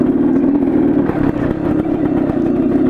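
A dirt bike motorcycle on a trail revs steadily up close, its engine droning at a loud, continuous pitch with brief dips in throttle.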